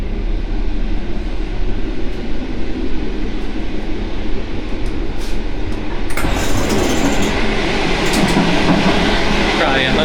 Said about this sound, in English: Narvik train.